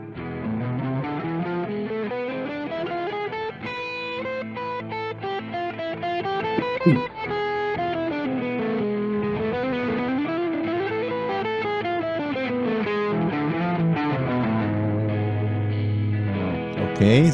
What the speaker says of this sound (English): And the whole harmonic minor scale sounds like this.